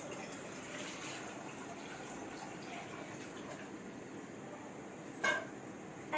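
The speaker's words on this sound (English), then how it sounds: "Now I'm going to pour in the water." About two glasses of water are poured into a cooking pan, a faint steady trickling wash in a quiet kitchen, ending with a brief clink.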